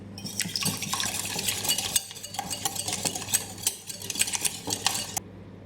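Medium-sized room-temperature eggs with half a teaspoon of salt being whisked in a bowl for Yorkshire puddings, a fast steady scraping and clicking of the whisk that runs close and continuous before stopping abruptly.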